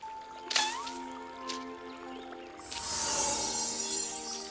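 A babbling brook in a cartoon gives a few squishy drips, then a brighter, shimmering slosh of water that carries on to the end.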